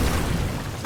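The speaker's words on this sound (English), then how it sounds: "Oh, grenade." A grenade goes off in the Uncharted video game, a short, heavy low boom with a rumbling body that fills the whole brief moment without fading away.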